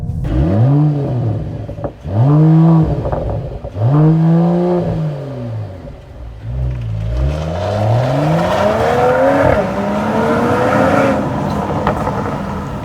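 A 2021 Mercedes-AMG E53 engine revved hard above 4000 rpm. Three sharp, close revving blips rise and fall, then a long, loud pull climbs in pitch under full acceleration.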